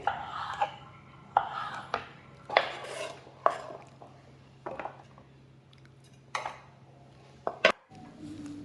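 A knife chops vegetables such as cauliflower on a board in a home kitchen, about a dozen close, sharp, irregularly spaced cuts over a low steady hum.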